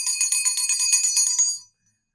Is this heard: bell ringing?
yes